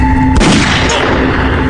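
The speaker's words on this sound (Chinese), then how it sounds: "我给你吃的，你干嘛开枪打我？" A single loud gunshot cracks out in a comedic skit scene, a sharp boom followed by a lingering rumbling tail, set against a steady background tone.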